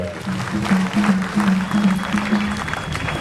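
Steady clapping from a crowd, dense and continuous, with a low droning tone underneath throughout.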